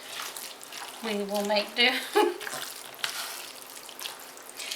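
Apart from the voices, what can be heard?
stirring casserole mixture with milk using a spoon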